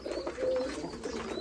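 At a small farm of domestic desi pigeons, several birds coo in soft, low, overlapping calls, near and steady, with a faint higher chirp.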